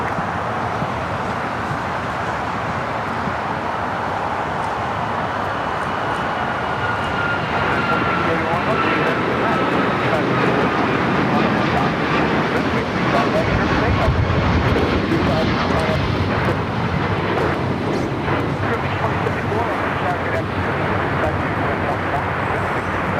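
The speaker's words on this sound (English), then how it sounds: "Flight taking off is United Airlines Flight 1635 heading to Dulles in the 737 MAX 8." A United Boeing 737 MAX 8 takes off at LAX bound for Dulles, its engines roaring loudly and swelling toward the middle before holding steady, with a voice talking over the noise.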